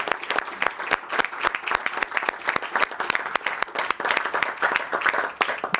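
A council chamber full of people applauds steadily during a council session, many hands clapping in a dense, even patter that carries on for several seconds.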